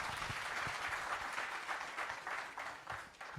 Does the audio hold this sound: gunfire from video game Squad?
no